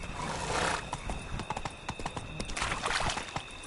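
Roach, the horse in The Witcher video game, gallops with quick, close clip-clop hoofbeats and lets out loud whinnies at the start and end of a short burst.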